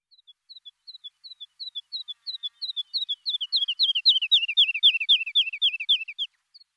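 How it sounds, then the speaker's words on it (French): A woodlark sings a long series of sweet, descending fluting notes that start soft and sparse, then speed up and grow louder into a rapid trilling run. "Alouette Lulu."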